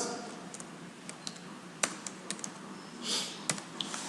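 Keys on a computer keyboard are typed in a sparse, irregular run of soft clicks, quiet against faint background hiss.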